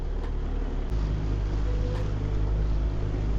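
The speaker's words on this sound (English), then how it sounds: "Hear the engine?" A boat engine near Sarasota drones steadily with a low rumble, loud and close, over faint water noise, no voices.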